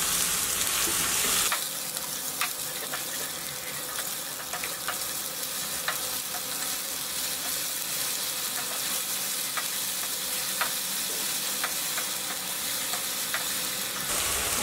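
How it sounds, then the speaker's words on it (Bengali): Spice paste of ginger, garlic and onion sautés with a little water in a pan for a Bengali fish curry, a steady close sizzle after a louder opening burst, with light spatula scrapes and taps throughout. "সামান্য একটু পানি দিয়ে মশলাটা একটু কষিয়ে নিই"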